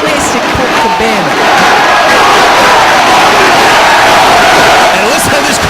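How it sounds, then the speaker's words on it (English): A loud professional wrestling arena crowd in Detroit roars and cheers during a match, a continuous dense wall of shouting and whooping with individual yells rising above it, while a commentator talks over the noise. "listen to this crowd in Detroit, appreciative of the athletic prowess of one Colt Cabana"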